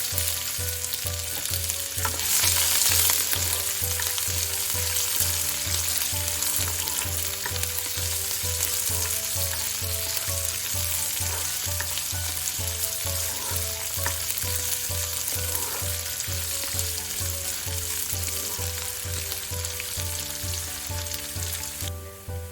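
Green chili, bay leaf and a medium onion with cumin frying in hot oil, a loud continuous sizzle and crackle up close, steady throughout with a low rhythmic hum underneath and no voices.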